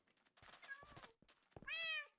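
A cat meows loudly in a survival video game, two drawn-out calls with a brief gap between them, the second one higher, more tonal and more strained.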